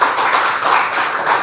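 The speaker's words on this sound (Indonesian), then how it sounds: "Tepuk tangan untuk kita semuanya." An audience at a national assembly in Bandung breaks into applause, a dense burst of many hands clapping at once, loud and sustained for a moment.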